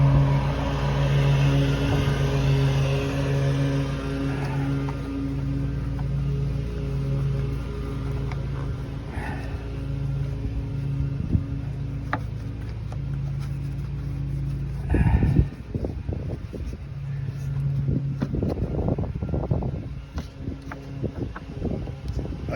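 A 2002 Dodge Ram 1500 4x4 with the 5.9L engine idles in a steady, droning hum that stays even for a long stretch, broken midway by a few sharp knocks and clatters.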